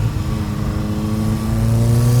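A big-turbo 1.4 TSI Volkswagen Scirocco engine drones steadily on overrun, a loud, close, even tone that builds slightly toward the end.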